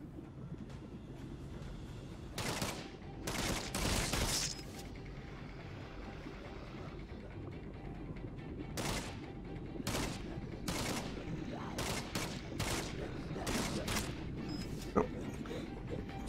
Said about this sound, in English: I also want to shoot some Zombos.